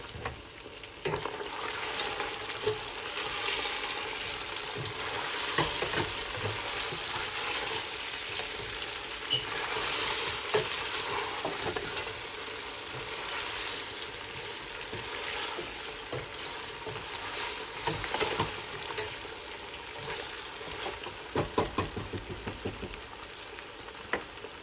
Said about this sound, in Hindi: तेल के साथ ही मैंने इसमें लहसुन अदरक डाल दिया है और इसको भूनेंगे 2-3 मिनट के